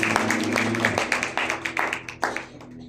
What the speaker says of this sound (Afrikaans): Geef hom 'n goeie hande klap.